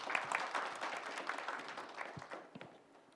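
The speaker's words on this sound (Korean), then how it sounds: "박수 부탁드립니다." Quiet audience applause welcoming a speaker at a Korean blockchain and digital asset industry policy forum, a brief, dense patter of many hands that fades out toward the end.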